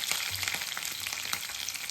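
Curry leaves and green chillies hit hot tempering oil with chana dal and urad dal, giving a loud, dense, crackling sizzle that stays steady and close throughout, with no one speaking.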